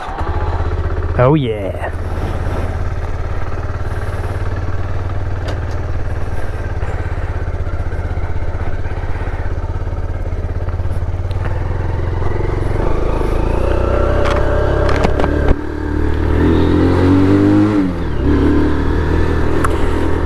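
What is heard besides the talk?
Kawasaki Z125 motorcycle starting and revving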